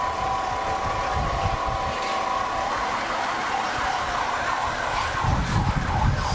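Siren from a Tippecanoe Fire and Rescue fire engine, Engine 942, rolling in a small-town egg festival parade with kids aboard, a steady wailing tone over crowd and engine noise outdoors.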